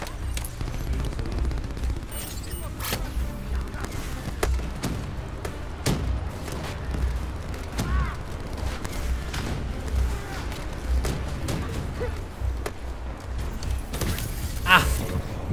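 Gunfire, including shotgun blasts, fills a Call of Duty: Black Ops III firefight as a dense, continuous stream of overlapping shots and impacts at moderate loudness, with no clear pauses.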